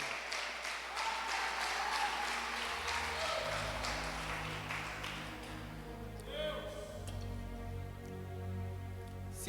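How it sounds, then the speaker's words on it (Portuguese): A church congregation claps together through most of the stretch, a dense steady patter over sustained music and a voice, with the clapping thinning out toward the end as the music carries on. "Então aplauda a ele, porque você serve a um Deus vivo."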